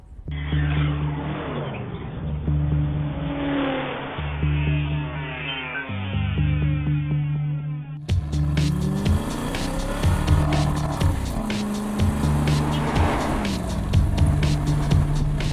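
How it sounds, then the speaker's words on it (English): A 2012 Aston Martin Vantage Roadster driving, its engine note rising and falling through gear changes with tire noise, loud and close throughout, with a sharp jump to a brighter, louder engine roar partway through. "Let's drive the 2012 Aston Martin Vantage Roadster"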